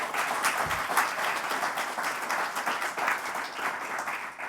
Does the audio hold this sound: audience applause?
yes